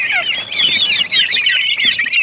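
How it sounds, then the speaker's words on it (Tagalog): A flock of turkeys gobbles and clucks in rapid, overlapping bursts, loud and close, with no pause in the chatter. "Ito naman yung mga pabo namin."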